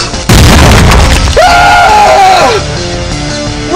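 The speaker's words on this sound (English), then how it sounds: "Anthony, that thing's gonna explode!" A loud, comedic cartoon-style explosion goes off from a churro thrown as a weapon, followed by a sustained rumbling blast and a wailing, sliding tone.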